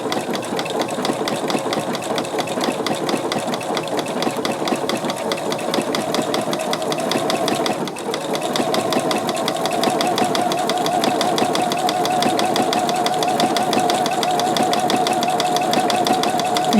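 A sewing machine runs steadily while stitching appliqué, a fast, even mechanical whir and clatter with a short pause partway through as the foot pedal is tapped to pivot, close and loud throughout.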